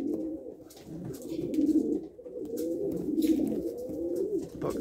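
Several Janssen and Vos racing pigeons coo in low, throaty rolling phrases that overlap continuously, fairly close, with faint rustling and light background noise.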